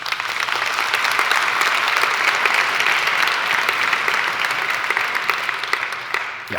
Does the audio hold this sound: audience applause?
yes